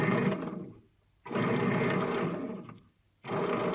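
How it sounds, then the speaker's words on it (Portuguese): Stand mixer kneading bread dough with flour for cinnamon rolls, a steady loud motor whir running in two long stretches with brief silent gaps between them, no talking. "Vou colocar a máquina para misturar."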